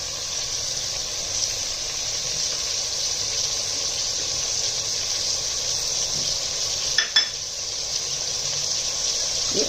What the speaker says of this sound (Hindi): अब इसको हम मुकम्मल इसके अंदर फ्राई करेंगे।